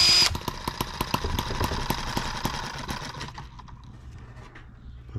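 An M18 engine running on Everclear fuel fires in rough, uneven bursts with sharp rattling clicks, loud at first, then fading and faltering toward a quiet idle.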